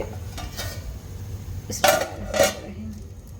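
Fish curry is stirred in a pot, with a few clinking scrapes and knocks of a metal spoon against the vessel over a low background hum, close and brief, with no talk.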